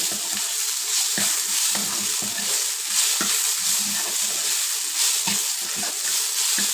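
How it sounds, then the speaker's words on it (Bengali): Fresh coriander leaves are stirred in a hot pan to cook off their water, giving a steady bright sizzle broken by soft, irregular scrapes of the spoon, close and continuous. "এই ধনে পাতার সাথে যে পানিটা আছে সেটা আমি শুকিয়ে নেব তিন চার মিনিট নাড়াচাড়া করে"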